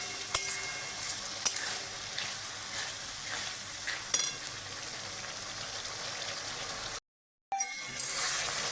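Masala spices frying in oil in a pan, a steady close sizzle with occasional louder crackles and stirring scrapes, ending in a brief silence and then a short resumption.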